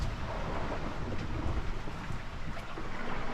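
Steady wind roars across open sea aboard a sailboat on a long Pacific crossing, a dense, constant rushing wash mixed with water noise, loud and unbroken, with no voices.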